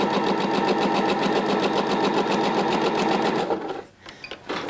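A sewing machine stitches a shoulder seam on a blouse or dress in a fast, steady, close rhythmic whir, slowing and stopping near the end with a few faint clicks.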